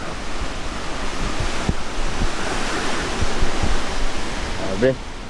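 Strong wind from a super typhoon roars in a broad, steady rush, swelling louder near the middle and easing slightly at the end, with brief faint voices near the close.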